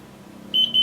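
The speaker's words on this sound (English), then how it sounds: "as you can hear, the timer's going off." A kitchen timer gives two short high-pitched beeps in quick succession, moderately loud over a faint low hum.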